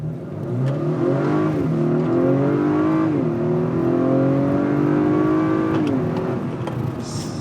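A 2019 Acura RDX SH-AWD A-Spec accelerates hard along a straight road, its engine note climbing steadily through several gear shifts, loud and close throughout with no talking.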